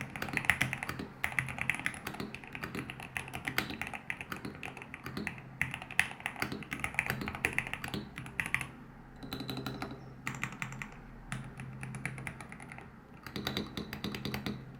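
Typing on a GMK67 mechanical keyboard with white PBT keycaps and lubed Milky Yellow switches, a steady stream of close, crisp keystrokes with brief pauses, heard alone.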